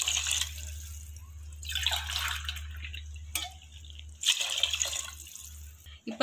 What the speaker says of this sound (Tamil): இப்போ நான் தண்ணி சேர்க்க போகிறேன்.